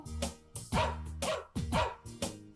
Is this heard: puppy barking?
yes